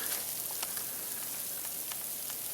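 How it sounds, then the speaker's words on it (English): Light sleet and frozen rain falling at about minus 6 degrees Celsius near the end of a blizzard, making a steady, soft hiss with faint scattered ticks of ice pellets, heard alone with no talk. "We got a light precipitation coming down."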